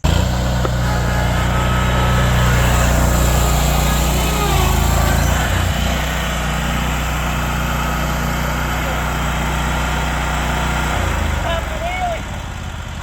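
Lawn mower fitted with sharpened blades cutting grass, a loud, steady engine drone close by that dips briefly midway, with a voice speaking over it.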